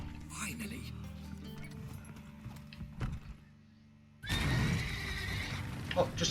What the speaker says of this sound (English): Oh, just a couple of horses.